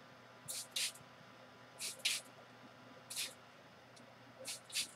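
A spray bottle squirts paint onto a surface: four pairs of short, sharp hissing bursts spaced at intervals, close but fairly soft, with one tiny spritz between them and quiet room tone in the gaps.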